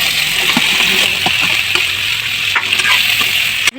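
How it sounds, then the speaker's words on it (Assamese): Sliced okra frying in a pan at home, with a loud continuous sizzle and occasional stirring scrapes and clinks, close by and with no talking. "এয়া ভেন্দি ভাজিছোঁ"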